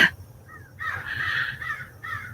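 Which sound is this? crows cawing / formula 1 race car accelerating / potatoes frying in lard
crows cawing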